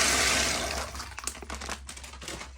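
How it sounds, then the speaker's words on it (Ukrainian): Dry chickpeas poured into water in a large pot for fermenting, a steady rushing pour that fades into scattered crackling, fizzing and clicking as the grains settle, close and fairly quiet. "Зараз засипаю його воду"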